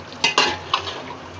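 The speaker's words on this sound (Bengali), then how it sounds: "এখন নেড়ে চেড়ে মিক্সড করে দেই" Beef biryani with fried potatoes and tomato ketchup being stirred in a pot, a few sharp scraping clatters of the spoon over a low steady sizzle, close and brief.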